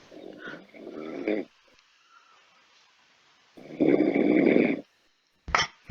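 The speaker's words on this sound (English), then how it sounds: "Ain't no way the motherfucker snores that loud." An old man snores loudly, with deep rasping breaths in irregular bursts separated by quiet pauses, close to the listener.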